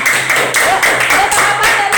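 A class of students clapping their hands together in a classroom, a steady patter of applause in uneven waves, with voices mixed in underneath.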